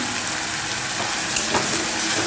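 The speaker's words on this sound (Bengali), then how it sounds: "আদা বাটা দেড় চামচ মতো আদা বাটাও দিয়ে দিলাম" Ginger paste frying in a pan for egg tadka, a steady close hiss and sizzle with faint stirring scrapes, continuous and without talk.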